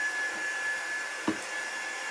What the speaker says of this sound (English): I'm just gonna actually throw the dryer at it one more time.